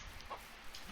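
Brief chicken clucks from the game Ranch Simulator, a couple of short chirpy calls over a steady low background hum.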